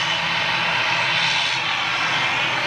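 An ATR 72 turboprop airliner roars loud and close in a steady, unbroken wash of engine noise, holding level with no voices over it.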